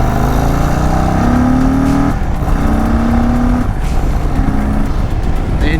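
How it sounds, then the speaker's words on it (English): A loud, close engine of a 2023 Indian Sport Chief motorcycle revs repeatedly, induction noise climbing in rising whines between brief drops, with a rough roar underneath. "The induction noises on this thing is ridiculous."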